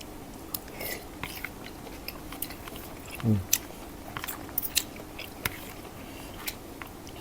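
Close, soft chewing of stir-fried scallops with faint moist bites and small crunches, quiet and intermittent against a low background.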